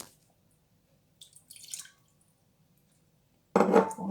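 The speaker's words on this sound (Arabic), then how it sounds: "دابا غادي ندير هاد الجليكوز، غنزيد عليه الماء" Water poured onto glucose in a pan while making a tropical-fruit pastry: a few faint drips and small clinks in near silence, then an abrupt, close splash of pouring liquid that keeps running to the end.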